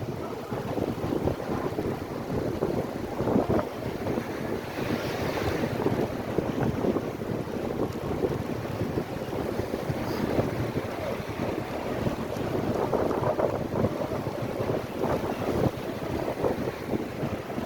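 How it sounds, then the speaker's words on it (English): Steady wind roars and buffets across the microphone on Fort Myers Beach, Florida, during a bicycle ride, a constant broadband rush with no pauses. "And this wind cuts through you too."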